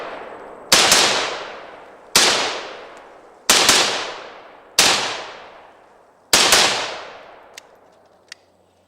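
Five single shots from an AK rifle ring out loud and close at even intervals a second or so apart, each a sharp crack with a long echoing decay, followed by two faint metallic clicks.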